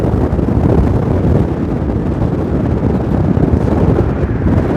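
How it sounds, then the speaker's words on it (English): Strong warm wind blasts the microphone high up in the Brooklyn Narrows in a loud, unbroken rumble that lasts throughout, with no speech. "Wow, is it windy up here? But it's a warm wind."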